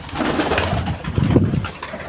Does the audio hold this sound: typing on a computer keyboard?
no